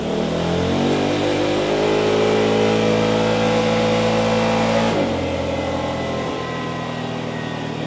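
A Yamaha XMAX 300 scooter engine revs hard and steady on a dynamometer, then drops abruptly as it cuts out, settling back to a lower running drone.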